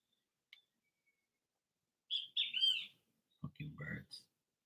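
A bird chirps and twitters in short bright bursts nearby, with a brief pip earlier, and a person's low murmur briefly overlaps near the end.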